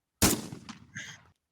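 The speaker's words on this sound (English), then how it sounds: "We don't need gunshots." A single sharp gunshot sound effect cracks out loud and close, with a brief echoing tail and a second fainter burst trailing off.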